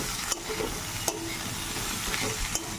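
Boiled, mashed young jackfruit frying in a pan with tomato and green chillies: a continuous close sizzle broken by a few crisp spatula scrapes and taps at irregular intervals.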